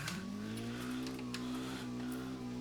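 A Mazda Miata with a 6-speed manual gearbox is thrown into a handbrake J-turn in the BeamNG driving simulator. Its engine holds a loud, steady, buzzing tone that climbs slightly in pitch, with faint tire noise beneath.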